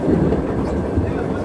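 Passenger train on the Haapsalu railway in Estonia, a brief loud rumble of wheels on track close by, with a hint of rhythmic clatter.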